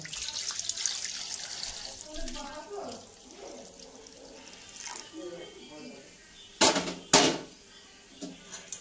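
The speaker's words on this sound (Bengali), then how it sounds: "পোলাও কষানোটা হয়ে গেছে, এখন আমি জল দিব। গরম জল আগের থেকে বসিয়ে রেখেছিলাম, দিব।" Hot water is poured into a pot of sautéed pulao while cooking, a soft, faint splashing and sizzle followed by two sharp clanks of a utensil against the pot near the end.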